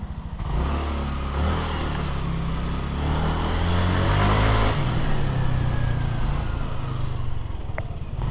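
A Yamaha Aerox 155 scooter engine with an odd noise runs steadily up close, its low rumble rising and swelling in the middle before settling back to a rough idle.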